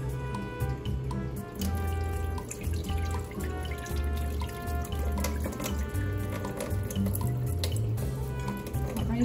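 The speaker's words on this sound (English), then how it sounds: "We're going to pour off the tannin water now." Tannin water being poured off settled acorn starch while making acorn flour: a trickling, dripping liquid stream with splashes into a container, steady at close range over a background hum.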